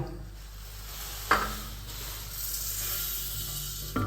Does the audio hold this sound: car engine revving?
no